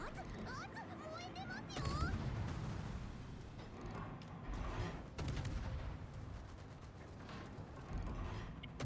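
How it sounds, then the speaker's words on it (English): High-explosive artillery shells fired at the player's ship in a naval combat video game: rumbling booms and crackling salvos build and repeat over a dense battle din, while someone talks over the top. "He is shooting HE at us right now."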